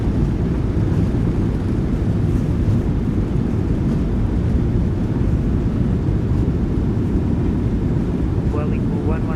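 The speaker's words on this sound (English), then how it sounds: "Nose down gently into the wind. Reversers are out. Decelerating." Thrust reversers roaring on a PMDG 737-800 airliner landing in MSFS2024, a loud, steady broadband rumble with wind-like noise throughout, plus a brief tonal whine near the end.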